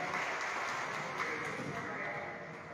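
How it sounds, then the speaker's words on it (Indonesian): Applause at a church gathering, a dense, steady patter of many hands clapping at moderate distance that fades slightly toward the end. "Berikan tepuk tangan yang benar."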